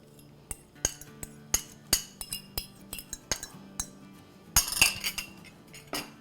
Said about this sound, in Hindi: तो अब हम अपना इसमें अंडा डाल देंगे।